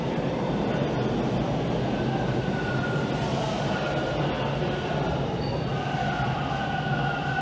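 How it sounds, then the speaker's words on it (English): A westbound Toronto subway train rumbles steadily as it rolls into underground Bloor-Yonge Station, a loud continuous roar with faint metallic squeals. "a westbound train is rolling in."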